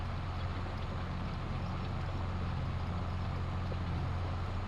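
A farm tractor in Farming Simulator 22, reversing across a field on the Elk Mountain Wyoming map, gives a steady, even engine drone with a low hum that holds unchanged throughout, with no talk over it.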